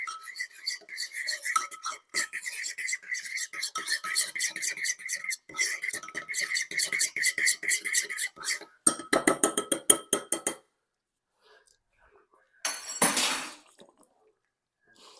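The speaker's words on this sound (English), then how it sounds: "Mix that around in the bowl, and your burger sauce is made." Spoon stirring burger sauce with Worcestershire in a bowl, producing close, steady wet scraping and squishing for several seconds, then a faster clattering burst and a brief final scrape after a pause.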